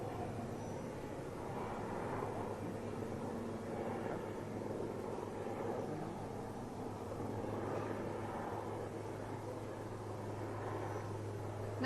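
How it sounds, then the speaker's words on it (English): A helicopter flying through mountain peaks near Kargil and Dras produces a steady, distant engine drone with a low rumble that holds evenly and faintly throughout, with no voices. "You can see the helicopter going through the peaks."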